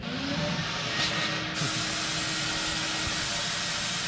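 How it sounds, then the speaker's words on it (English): A blast cabinet sandblasts exhaust system parts for Cerakote coating, producing a steady, loud, continuous hiss of abrasive spray with a faint high whine at the start that drops away. "So I'll try to show you just a little blasting, but you ain't gonna see much"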